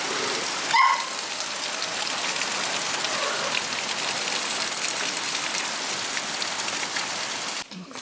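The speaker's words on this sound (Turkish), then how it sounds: "Şu an yağmur da arttı bayağı." Heavy rain pours down outside a home in a dense, steady hiss of drops on surfaces, loud and continuous, with a brief bump near the start and a short break at the end.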